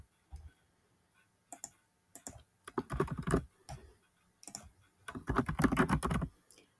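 Computer keyboard being typed on while composing an email, in quick bursts of close key clicks separated by short pauses, with no one speaking.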